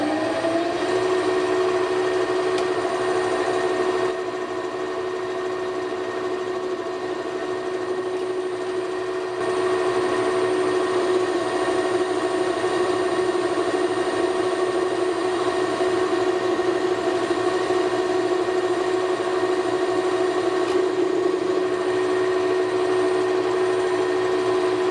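Mild steel of unknown grade turning dry, with no cutting fluid, on a SEIG 7x14 mini lathe fitted with a BLDC spindle motor: a steady, continuous machine drone with a sustained tonal whine, close and even throughout, no voices.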